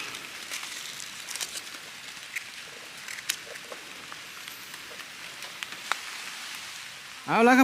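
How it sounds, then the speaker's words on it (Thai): Rain falls in a hillside forest during mushroom foraging, a faint, even patter with scattered drops hitting leaves. A voice cuts in briefly at the very end. "ฝนตกแล้วครับผมกับ"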